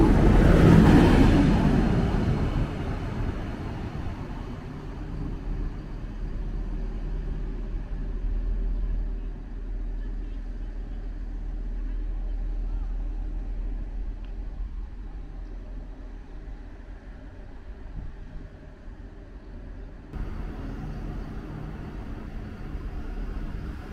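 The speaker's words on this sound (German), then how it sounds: "Einfahrt RB67 von Kusel mit einer Baureihe" A class 643 regional railcar on the RB67 from Kusel arrives at Steinwenden station, a low rumble that swells at the start, then settles into a steady, moderately distant hum that lifts again near the end.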